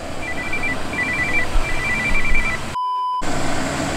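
A phone rings with a repeating electronic beep pattern in three short bursts, heard at moderate level over steady outdoor background noise during off-road winch recovery work.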